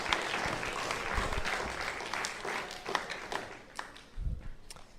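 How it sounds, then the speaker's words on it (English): An audience applauds actors after a staged telling of the Emperor's New Clothes, a dense wash of many hands clapping that stays loud for several seconds and then thins out. "Let's give our actors a warm round of applause"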